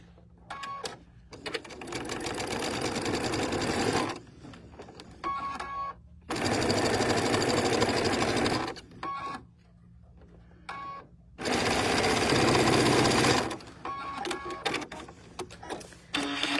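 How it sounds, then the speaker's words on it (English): A sewing machine stitches through quilt fabric in three long runs of steady whirring, with short pauses and lighter bursts between them as the fabric is turned. "I'm going to twist my fabric around and stitch from the opposite direction."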